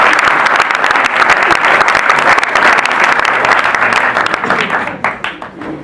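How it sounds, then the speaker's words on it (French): An audience at a high school reading-prize ceremony claps loudly and steadily, dense applause filling the room before thinning into scattered final claps. "on les applaudit très fort"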